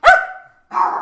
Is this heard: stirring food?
no